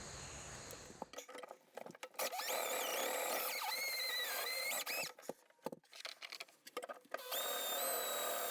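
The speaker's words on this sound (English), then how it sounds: "I'm just going to drill straight through my floor" A power drill bores straight through a caravan floor. Its motor whines in bursts that rise and fall in pitch, close and loud, separated by brief quiet gaps.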